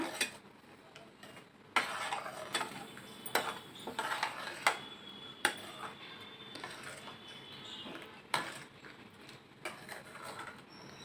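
Turmeric being stirred into kadhi in a pot: quiet scraping and swirling broken by irregular metallic clinks of a spoon against the vessel, close and fairly soft, with no speech.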